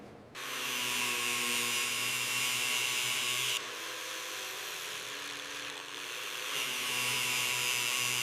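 A steady, loud whine of a power sander grinding continuously on a metal patch of a 1930 Ford Model A, close by, with a slight shift in pitch partway through.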